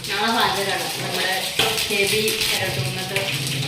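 Mustard seeds crackle and sizzle in hot oil with a steady spitting hiss, interrupted by a sharp clatter of a utensil against the pan.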